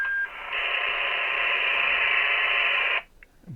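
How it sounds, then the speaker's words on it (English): A GMRS two-way radio, a Retevis RT97s repeater or Midland MXR10 setup, gives a steady hiss of squelch-tail static after a radio check, lasting about two and a half seconds before cutting off abruptly into near silence. "if I can get rid of the white noise or static at the very end"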